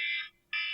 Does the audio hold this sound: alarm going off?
yes